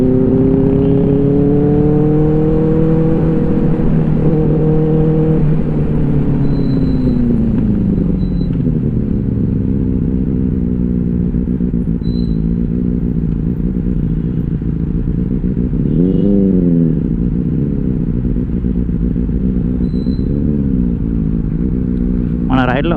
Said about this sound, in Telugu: R18 wands and exhaust, dual exhaust, మస్తు ఉంది సౌండ్.